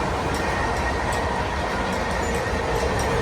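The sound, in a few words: fast passenger train running, goods train passing opposite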